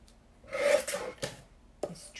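A paper guillotine slides along the edge of card, giving a soft rasping scrape followed by short sharp cuts and clicks, close up.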